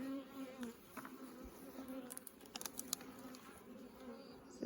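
Honey bees hum and buzz inside a crowded nuc hive, a steady low drone with individual bees zipping close by, plus faint taps and scrapes from handling, quiet overall.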